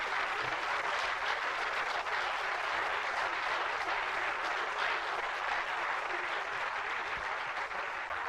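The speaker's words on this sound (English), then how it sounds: "A round of applause for Uncle." An audience at a talk event applauds a speaker being honoured, steady sustained clapping from a crowd heard at a moderate distance, even and unbroken throughout.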